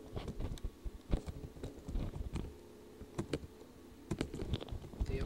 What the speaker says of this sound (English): You'll go ahead and type it, press enter.